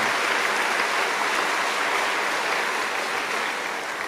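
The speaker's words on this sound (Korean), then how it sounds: "큰 박수로 우리 대전 온누리 창립 10주년을 축복합니다" A church congregation applauds during a Sunday service, a uniform, continuous wash of clapping at steady loudness that sounds almost like heavy rain, with no break throughout.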